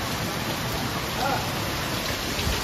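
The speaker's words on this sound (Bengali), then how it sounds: "তা আবার সিল পড়া বৃষ্টি" Heavy rain mixed with falling hail drums down in a thick, unbroken wash of patter, loud and close throughout the short stretch.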